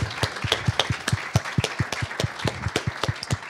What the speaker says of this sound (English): So I want to thank them with a round of applause.